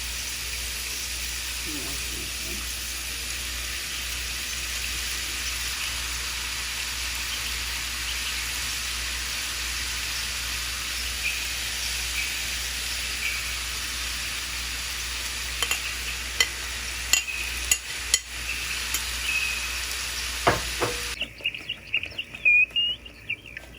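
Vegetables frying in a pan, a steady sizzle and hiss running throughout, with scattered clinks and scrapes of stirring growing more frequent toward the end.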